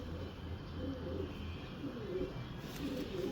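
Domestic pigeons kept for breeding, including golden and ghamaggar females, coo in low, soft repeated calls under steady background noise, with no one talking.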